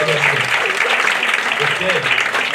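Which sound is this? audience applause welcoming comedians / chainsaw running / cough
audience applause welcoming comedians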